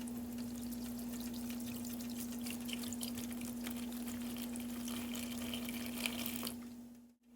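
Apple cider vinegar poured from a 16-ounce bottle onto baby back ribs, a faint steady liquid trickle under a constant low hum, ending in a short pause.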